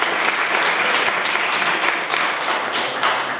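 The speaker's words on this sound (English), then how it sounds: "Give yourselves a round of applause." An audience at a fair housing rally in Ossining applauds, a thick, loud burst of many hands clapping at once that stays steady and close throughout.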